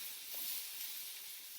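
Soft, steady hiss of food being tossed and sizzling in a wok, faint and continuous throughout with no voices.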